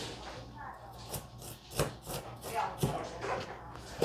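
Cooking ingredients are sliced by hand with a knife in soft, irregular taps against a board, quiet and close, while a voice talks faintly in the background.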